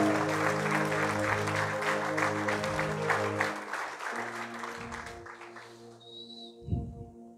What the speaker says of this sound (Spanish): Alguien denle un aplauso al Señor.